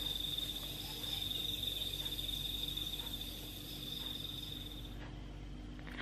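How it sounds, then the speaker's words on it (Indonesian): Crickets chirp steadily in a continuous, high-pitched trill against quiet night ambience, with no other sounds. "Suara jangkrik ya"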